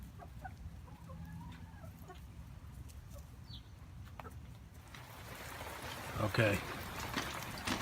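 Backyard chickens cluck and call in soft bursts, close by over a steady background hiss, growing busier and louder toward the end.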